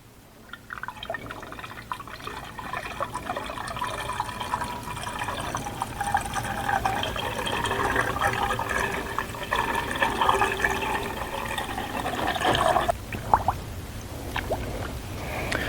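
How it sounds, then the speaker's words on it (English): Coolant pours steadily into the cooling system of an Audi Q7 through the surge tank, a continuous gurgling, trickling liquid flow with faint drips that tails off near the end. "So now let's put coolant in the cooling system"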